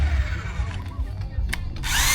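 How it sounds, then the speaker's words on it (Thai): A power drill bores into a post of a bamboo footbridge under repair, producing a short, close, gritty whirring that surges and cuts out in quick bursts. "กำลังเจาะมันอยู่"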